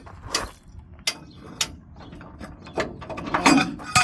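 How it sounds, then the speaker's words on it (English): A cheater bar works on stubborn trailer skid plate bolts, giving sharp metallic clicks and ratcheting knocks in irregular bursts, close and fairly quiet, with scraping between hits. "So I'm going to go ahead and grab my cheater bar."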